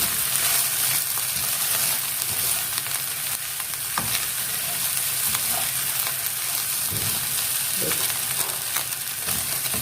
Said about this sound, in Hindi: ये चिकन हमारा हल्का सा मैंने बीच में फ्राई कर दिया।